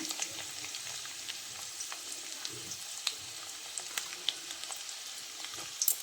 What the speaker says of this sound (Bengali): রসুনটা একটু ভাজা হোক